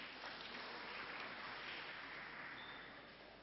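Audience applause fills the hall at the inauguration of the As-Syafi'iyah Halal Center, a dense, steady clapping that holds for a few seconds and then slowly tapers off.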